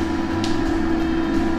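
A cheap air fryer roasting chicken at 200 degrees for 20 minutes runs with a steady, loud fan hum and low mechanical drone, unbroken throughout.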